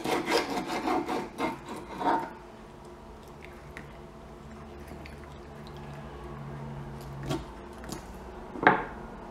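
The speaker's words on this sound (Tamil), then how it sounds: "வால் கட் பண்ணிடணும். தலையும் கட் பண்ணிடலாம்." A knife cutting the tail and head off a cleaned pomfret fish, producing a series of close scraping, rasping strokes in the first two seconds, followed by quieter scattered taps and one sharp cut near the end.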